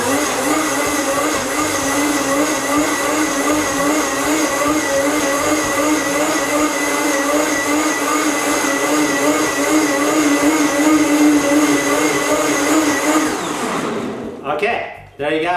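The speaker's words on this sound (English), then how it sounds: "I'm going to put it on high and just liquefy these cruciferous vegetables in here" A blender on high liquefies collard greens and Swiss chard, a loud steady motor whine with rippling tones running continuously close by, then cutting off near the end.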